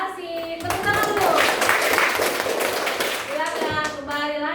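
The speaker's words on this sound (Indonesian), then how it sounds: "Tepuk tangan dulu" Classroom applause for a group's presentation, a dense burst of many hands clapping that swells and then tapers, with children's voices and other talk over it.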